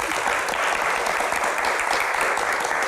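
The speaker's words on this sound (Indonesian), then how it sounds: "Baik, tepuk tangan." Audience applause at a televised Q&A event, a steady wash of many hands clapping that holds evenly from start to finish, fairly loud and close, no voices over it.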